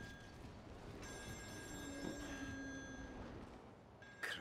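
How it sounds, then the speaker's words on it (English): A telephone rings faintly in the distance in the video game Still Wakes the Deep, a thin electronic bell tone repeating under a low ambient hum, with no speech. "Oh, there's a phone ringing."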